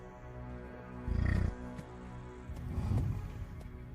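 Lions give low, rumbling roars during a hunt on a bull in the heat of the open wild, two heavy bursts rising over a steady background hum with no talking.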